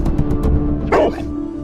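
A cartoon dog gives a quick series of short, close barks followed by a louder, longer bark.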